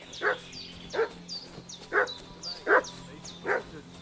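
A dog in Kingdom Come Deliverance barks five times in a steady, evenly spaced rhythm, sharp and fairly close, over a low ambient hum with no talking.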